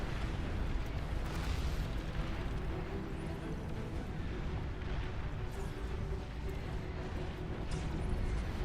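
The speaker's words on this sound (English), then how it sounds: "They just keep firing." Units in the real-time strategy game Beyond All Reason fire nonstop in a large battle, a dense, steady wall of booming explosions and weapon blasts rumbling throughout with no pauses.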